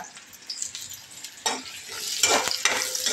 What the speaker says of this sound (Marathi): पहिल्यांदा कांदा टाकणार आहे, भाजत येतोय.